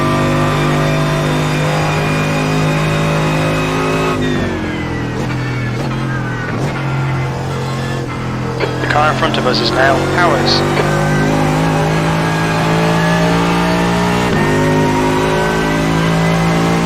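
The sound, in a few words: Mercedes-AMG GT3 race car engine racing at Sebring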